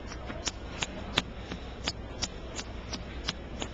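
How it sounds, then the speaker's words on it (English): Magic: The Gathering players shuffle their decks between games at a Pro Tour team semifinal, with crisp riffling card snaps repeating at a quick, regular pace over a low room hum. "these guys shuffle up for game 2"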